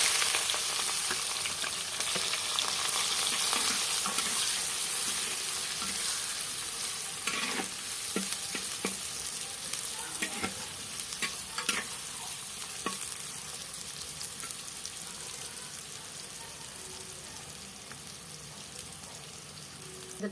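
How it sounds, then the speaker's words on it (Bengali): Onions sizzle and fry in a clay kadai, with a steady bright crackle of hot oil throughout and occasional scraping clicks as they are stirred; no voices. "পেঁয়াজ দেখেন লাল লাল ভাজা হয়ে গেছে"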